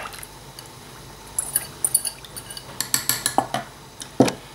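Evaporated milk goes into a saucepan of sugar and is mixed, giving a soft liquid backdrop followed by a quickening series of light, close clinks of a utensil against the pan.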